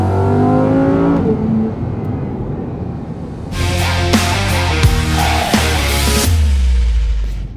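A Lamborghini Huracán Sterrato drives along the southern Italian coast, its engine humming steadily before surging into loud, close revving with rising and falling gear pulls and sharp bursts toward the end.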